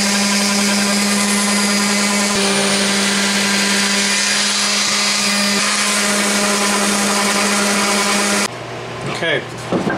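A power sander with 220 grit sandpaper works a round wooden cribbage board, giving a loud, steady whirring drone for several seconds before cutting off near the end.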